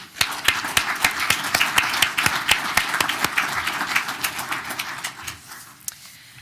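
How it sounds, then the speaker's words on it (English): Applause at a township committee reorganization meeting, a modest group clapping with distinct individual claps audible in an uneven rhythm, tapering off near the end. "Please join me in a round of applause."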